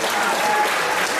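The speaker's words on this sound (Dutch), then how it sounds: "mag ik ten eerste een applaus voor deze twee knokkers" A crowd at a boxing event applauds the two fighters, producing a loud, dense wash of clapping that holds steady without a break.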